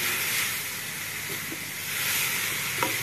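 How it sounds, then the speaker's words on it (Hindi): Radish leaves tossed with spices frying in a hot pan over a high flame, a steady broadband sizzling hiss throughout with a few faint clinks. "मसालों के साथ मूली के पत्ते पहले अच्छे से मिक्स करेंगे, भून लेंगे।"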